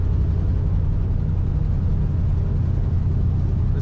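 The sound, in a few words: 1971 Chevrolet Nova engine and exhaust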